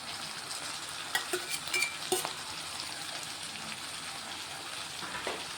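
Tomatoes are added to a cluster bean curry frying in a pan, producing a continuous sizzle broken by scattered crackles and a few sharp stirring clicks, fairly close and moderately loud.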